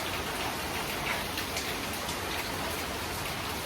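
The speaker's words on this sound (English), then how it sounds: "So we will wait a bit because of the rain" Heavy rain pours steadily and loudly, a dense, even hiss of drops on surfaces with no gaps, close and continuous throughout.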